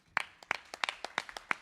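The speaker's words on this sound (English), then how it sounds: "let's get a set clap for episode 3" Studio audience doing a quick rhythmic set clap, a run of sharp, evenly spaced hand claps close and fairly quiet in a room, no voices.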